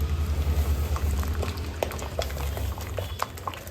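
Semolina (rava) being stirred into hot water in a pot on the stove, a steady bubbling, churning liquid sound with soft scattered taps and scrapes throughout, fairly loud and close, with no talking.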